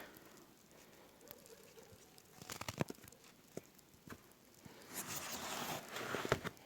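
Crunching footsteps in fresh, falling snow, a series of irregular crisp crunches growing louder and denser toward the end, close to the microphone with no talking.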